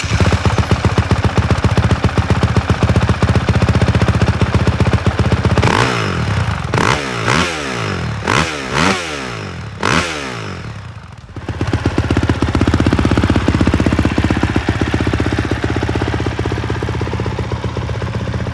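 A 2023 Honda CRF450R dirt bike fitted with a Yoshimura full exhaust system, its engine idling loudly and then snapped through a series of sharp, rapid revs before settling back to a steady, close idle.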